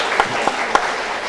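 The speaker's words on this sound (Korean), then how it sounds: "박수를 환영하겠습니다" A church congregation applauds during a Sunday worship service, a steady wash of clapping across the whole short stretch with a few sharper claps standing out.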